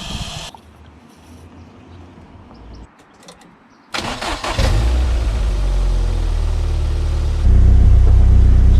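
An MG TF track day car with a coolant fault cranks and fires at about four seconds, then settles into a steady, loud idle that steps up slightly near the end.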